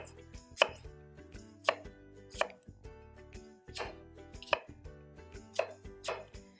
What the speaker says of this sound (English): The first job I need to do is chop up some strawberries.